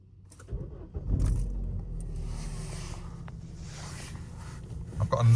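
A 2015 Vauxhall Astra 1.4 SRi petrol engine cranks and catches with a brief rise, then settles into a steady low idle close by, with a faint jingle of keys at the start.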